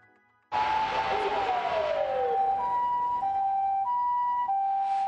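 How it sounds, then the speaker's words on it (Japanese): An ambulance siren on a Sapporo street, loud and close, sounds steadily from about half a second in with a sliding wail partway through, heard alone with no talk. "救急車のサイレン音が変わった。"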